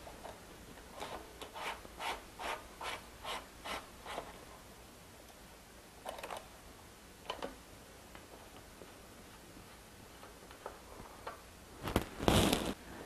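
A bicycle bottom bracket cup is turned out by hand with a tool, giving a run of evenly spaced ratcheting ticks, then scattered clicks and a louder scraping rattle near the end, quiet and close.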